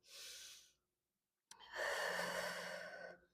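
Breathing during a mat exercise class: a soft breath in, a pause of silence, then a longer, fuller exhale, close and clear with no talk.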